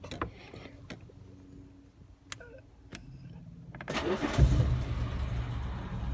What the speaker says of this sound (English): That's what a Rolls Royce is supposed to sound like.